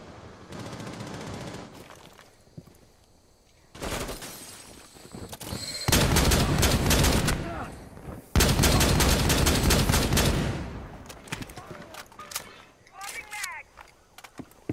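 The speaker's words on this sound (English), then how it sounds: "Where am I getting shot from?" Gunfire in Tom Clancy's Rainbow Six Siege: several loud bursts of rapid close-range shots in quick succession between quieter gaps, with a voice speaking around them.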